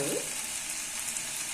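Curry leaves sautéing in a pan for a curry-leaf thuvayal, a steady, fairly quiet sizzle with a brief stir near the start, no talking.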